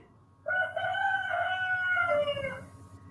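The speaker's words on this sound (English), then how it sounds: "Actually, there is a cock." A rooster crows once on a farm, a single drawn-out call of about two seconds that rises and then tails off, fairly quiet and somewhat distant over a low background hum.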